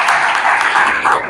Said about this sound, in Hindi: इनके लिए ताली बजाओ जो 4 बजे